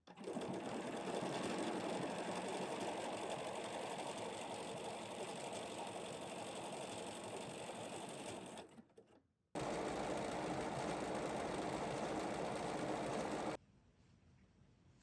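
A sewing machine runs a detailed decorative stitch on a crazy patchwork heart, a loud continuous mechanical whir that stops briefly, resumes, then drops to a faint hum.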